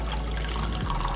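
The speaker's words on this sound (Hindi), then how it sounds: "अब इसमें मैं डाल दूँगी आधा कप गर्म पानी।" Half a cup of hot water is poured into a glass holding a pinch of roasted cumin powder, a short close steady pour with a low gurgle and no voices.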